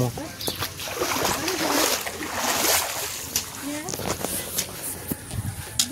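Water splashes and sloshes in uneven bursts close by as feet are washed, with people talking over the wet slapping sounds.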